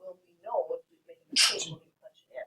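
A single sharp sneeze bursts out mid-clip during a classroom algebra lesson, loud and close, with a student's spoken question before it and brief talk after.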